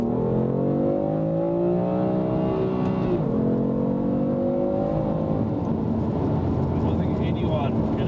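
A BMW M3's engine revs loudly while driving on coarse chip roads, its tone climbing and falling through the gears in a continuous, close drone.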